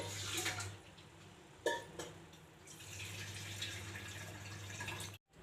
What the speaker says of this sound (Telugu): ఇలా వాటర్ అంతా కిందకు వచ్చేస్తుందండి